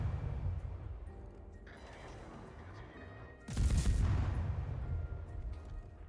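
Naval guns of the Leningrad, a tier 7 Russian destroyer in World of Warships, fire from inside a smoke screen, with a low rumbling battle backdrop and one heavy booming salvo near the middle.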